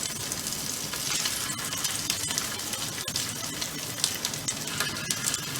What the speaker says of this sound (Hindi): तेल हमारा गर्म हो चुका है, अब हम चिकन को फ्राई कर लेंगे